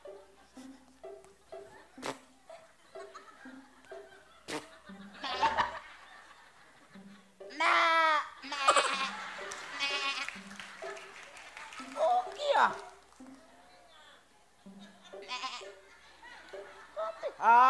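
A contestant on a TV talent show repeatedly imitates a goat's wavering bleat, with short spoken bits, laughter and a few sharp clicks between the calls.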